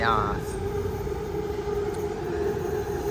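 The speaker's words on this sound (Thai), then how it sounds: "รถไฟเข้าโค้งนะครับ" A train in Thailand rumbles steadily as it enters a curve, a close, continuous roar of wheels and carriages with a faint high squeal at the start, heard from on board.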